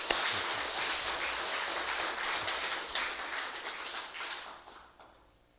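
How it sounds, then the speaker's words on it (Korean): Church congregation applauding for a pastor at a Sunday service, a fairly faint wash of steady clapping that holds for several seconds and then fades away. "우리 박수 다시 한번"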